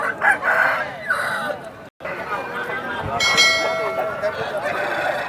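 Fighting rooster, crow and peacock coloured, about 23 inches tall and over 3 kg, crows at Nallapadu poultry market; a loud, drawn-out crow rises midway through steady market bustle and nearby voices.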